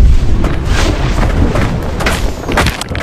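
A gravity bomb spell explodes in Blade and Sorcery Nomad, a heavy booming blast with a rumbling low roar that holds loud through the whole few seconds, with a few thuds trailing after.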